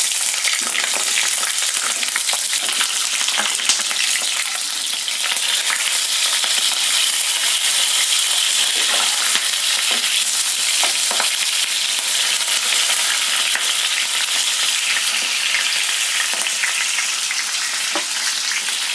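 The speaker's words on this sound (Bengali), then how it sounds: "এবার কেটে রাখা বড় বড় পেঁয়াজের টুকরোগুলো দিয়ে দিলাম।" Large pieces of onion fry in hot white oil in a kadai, giving a dense, steady hiss with scattered crackles and pops throughout, close and continuous with no talking.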